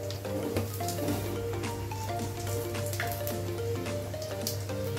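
Panch phoron spices and dried chilli frying in hot oil give a steady, crackling sizzle with scattered pops throughout, while faint tonal music plays underneath.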